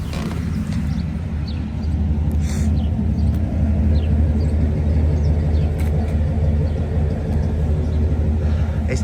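A 1966 Pontiac GTO with a numbers-matching engine idles steadily in a low, smooth rumble, fairly quiet and even throughout, with no voices.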